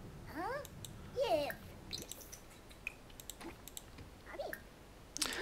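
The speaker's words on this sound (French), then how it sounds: "s'entraîner à taper du clavier" Scattered key clicks on a computer keyboard during typing practice, faint and irregular, with quiet electronic blips and soft vocal sounds mixed in.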